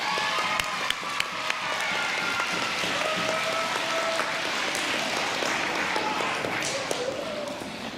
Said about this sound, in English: I'm going to call them up one at a time so we can clap for them individually.